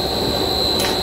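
Steam rushing steadily through an industrial panipuri machine, a loud, constant hiss with a sustained high whine, slightly brighter in the final moment.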